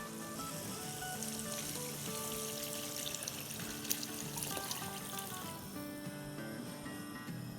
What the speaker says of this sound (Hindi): यहाँ डाल देंगे स्टॉक।